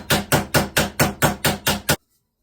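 Eight sharp, evenly spaced hammer blows ring out, close and loud, as rivets are set on a forged, bladed Viking helmet, then the blows stop dead into silence.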